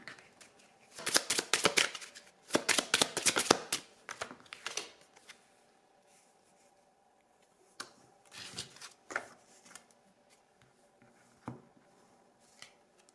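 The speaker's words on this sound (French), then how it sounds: "On va aller tirer une carte supplémentaire." Tarot cards shuffled by hand in quick riffling bursts, loud and close, then a few softer shuffles and single card flicks with quiet gaps between.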